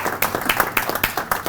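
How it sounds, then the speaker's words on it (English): An evening audience at a real estate event claps and applauds, a dense, steady burst of many hands close and fairly loud, with no one speaking. "clap it up for yourself for being here this evening"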